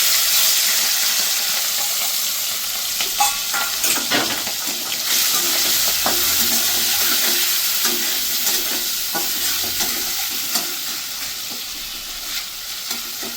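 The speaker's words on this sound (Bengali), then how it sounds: "তাহলে চিংড়ি মাছটা একটু ভেজে নেবো আগে" Prawns frying in oil in a pan, a steady loud sizzle with irregular pops and spatters and occasional stirring scrapes, close up and continuing throughout with no talking.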